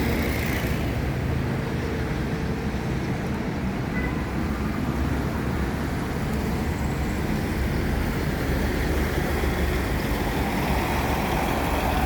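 A bus's heavy Volvo diesel engine idles continuously with a deep, steady drone and broad mechanical noise, loud and close, with no talking.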